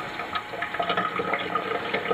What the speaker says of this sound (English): and then I run it into the water